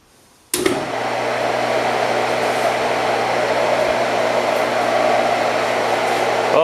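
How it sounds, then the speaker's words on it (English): A 2.65 HP pump motor, revived after being locked up, switches on abruptly at high speed and then runs with a loud, steady whine and a whooshing hum that holds to the end. "We're going to switch the motor over to high speed."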